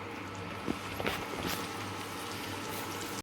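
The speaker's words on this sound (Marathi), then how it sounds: "आता आपण हा कांदा तळून घेऊया बघा।" Sliced onions frying in a generous amount of hot oil for home-style egg biryani, a steady close hiss and bubble with a few soft clicks from stirring.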